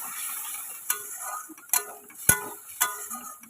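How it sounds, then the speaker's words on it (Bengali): Spice paste stirred and fried in a pan for an egg curry, with a soft sizzle and several sharp scrapes and taps of a spoon against the pan, fairly close, no talk. "দিয়ে ভালো করে মশলাটাকে কষিয়ে নেব"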